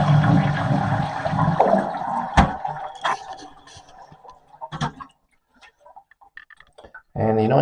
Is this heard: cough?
no